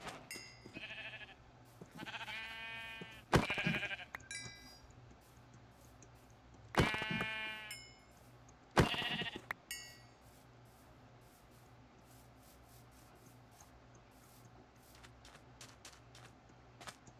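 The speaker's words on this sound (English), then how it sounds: "ooh, sheep. We need sheep." Sheep in a modded survival video game bleat several times, a few loud nearby calls spaced through the first half, then quieter clicks and faint sounds.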